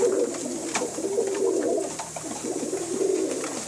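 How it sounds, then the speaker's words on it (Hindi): Pigeons coo in soft, low, repeated throaty calls, several overlapping nearby against a faint ambient hiss. "ये बहुत मेरे फेवरेट कबूतर हैं।"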